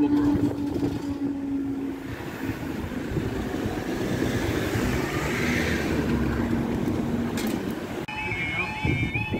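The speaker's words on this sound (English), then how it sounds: "Train's already here." An East Midlands Railway train idles at a station near Boultham Level Crossing with a low rumbling engine drone and mechanical hum, faint voices in the background and a brief beeping near the end.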